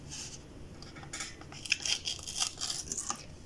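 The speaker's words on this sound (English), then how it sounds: "you're going to want to tear this" A sheet of paper is torn by hand, making a series of short, crisp ripping and crunching bursts close up that grow louder and more frequent toward the end.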